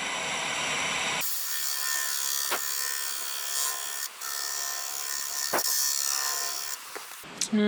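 Carbide tool cutting an epoxy resin bowl on a lathe at 600 RPM, a steady close scraping and hissing that starts abruptly and continues unbroken, with a few sharp ticks along the way.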